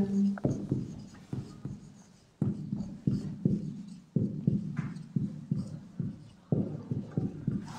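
Pen writing out given information for a Class 10 trigonometry problem, a run of repeated short scratching strokes in uneven rhythm, close and fairly clear with no talk over it.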